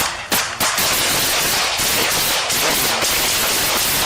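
Rapid automatic gunfire as a full magazine is emptied into a target near a wooded area, a loud, dense continuous stream of shots with barely a gap.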